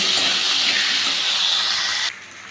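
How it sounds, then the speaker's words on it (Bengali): Pieces of taro and potato fry in a pan with a little salt, producing a loud, continuous close-up sizzling hiss that cuts off abruptly just before the end. "দেখুন এখানে ভাজা হচ্ছে।"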